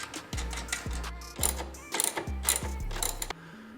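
A ratchet clicks in short bursts as it tightens a nut, washer and bolt onto a small bracket during an MST Performance intake install on a BMW F30 with a B58 engine, heard under background music.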